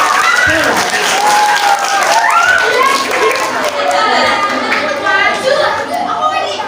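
Applause rises from an audience at a madrasah Khotmil Qur'an ceremony during Ramadan as a student competitor is honoured, the clapping steady beneath clear, prominent speech and voices throughout.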